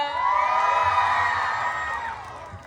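A pageant crowd cheers, whoops and shouts loudly during a national costume segment, with a swelling chorus of high voices that peaks and then tapers off.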